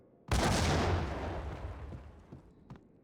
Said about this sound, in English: I recognize that explosion sound.